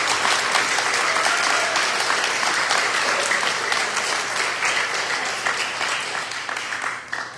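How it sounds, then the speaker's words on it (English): Sustained audience applause echoing in an ice rink at a Special Olympics homecoming event, dense clapping holding steady for several seconds before tapering off at the end. "Not used to getting an applause in this rink."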